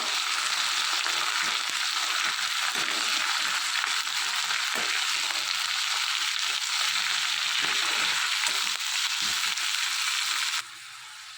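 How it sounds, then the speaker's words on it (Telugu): Fresh coriander, garlic, cumin, coriander seeds and green chillies frying in a pan for tomato coriander chutney, a dense continuous sizzle close by with occasional stirring knocks, cutting quieter at the very end. "కొత్తిమీర ఎల్లుల్లిపాయలు జీలకర్ర ధనియాలు పచ్చిమిర్చి ఇవన్నీ కూడా బాగా ఫ్రై చేసుకోవాలి"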